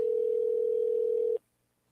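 A single steady telephone ring tone sounds on an outgoing call, loud and clear for about a second and a half, then cuts off abruptly into silence.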